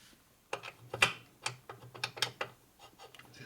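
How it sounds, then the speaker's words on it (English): A 1941 Harley WL 45 flathead stroker motor is turned over by hand, producing a run of close mechanical clicks and ratcheting clunks in an uneven rhythm that fades off as it stops, with no talking. "This motor wouldn't turn over, see it stops right there."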